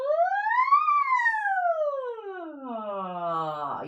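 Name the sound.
voice imitating a siren, sliding from low to high pitch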